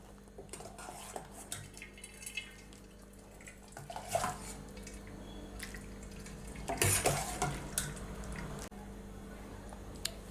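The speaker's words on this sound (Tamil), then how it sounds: "இப்போ இந்த திரிக்க வச்ச பாலை இதில ஊத்திடலாம்." Curdled milk, soured with lemon juice, is poured from a pot through a damp white cloth set over a vessel for straining, with a brief wet splash amid close clinks and scrapes of metal pots and utensils; no one speaks.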